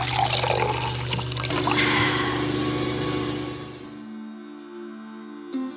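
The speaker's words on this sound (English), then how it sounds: "We're making water." A boat watermaker aboard a 75-ton, 55-foot trawler produces water, a steady rushing trickle over a low machinery hum that fades after about four seconds, leaving only the hum and a brief clunk near the end.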